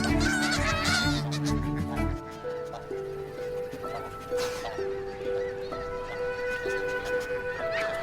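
Geese honk loudly in a noisy flock, with overlapping nasal calls throughout, together with other fowl sounds and clatter.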